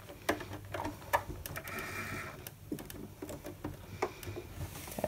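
A sewing machine top stitches a heavy fake suede bag handle, a close rapid mechanical clatter that runs in short bursts with small pauses and clicks between them.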